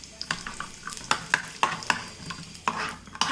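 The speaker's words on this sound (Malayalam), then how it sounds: "ഇതിലേക്ക് നമുക്ക് കുറച്ച് കാഷ്നട്ട് ആദ്യം ഒന്ന് മൂപ്പിക്കാം." Cashew nuts frying in a tablespoon of ghee in a pan, stirred by hand; sharp spoon-on-pan scrapes and clicks come in an irregular rhythm over a light sizzle, close and alone without talk.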